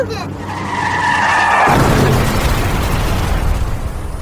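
A car skids with a rising tyre screech, then a loud crash and sustained rumble of impact debris, a dramatic sound effect in a child car-seat safety ad.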